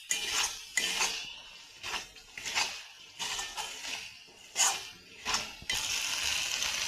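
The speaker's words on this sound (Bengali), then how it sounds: "দিয়ে ভালো করে একটু নাড়াচাড়া করে নেব।" Spices and lote fish are stirred in a metal cooking pan for a spicy fish jhal, a utensil scraping and clanking in about seven rhythmic bursts with brief pauses between, close and fairly loud.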